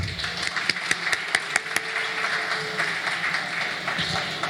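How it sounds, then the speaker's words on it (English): Scattered hand claps from an audience at a conference dinner event, sharp individual claps rising and then thinning out over a steady, murmuring room hum. "Please all give a round of applause for Martin"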